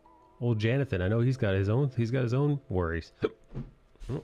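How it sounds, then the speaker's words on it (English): Someone speaks a sentence, then a single short hiccup pops out near the end of the speech. "That was a hiccup"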